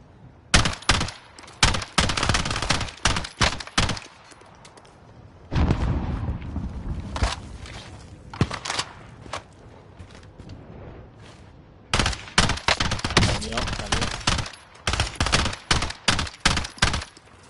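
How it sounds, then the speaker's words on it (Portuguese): Bursts of rapid gunfire crackle in clusters in the video game Warzone, loud and sharp, separated by quieter stretches of rumbling game ambience. "Tiros. Atrás, mandaram os tiros."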